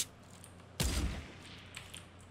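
A single sharp gunshot in Fortnite: Battle Royale cracks out, followed by quieter game ambience and faint distant pops.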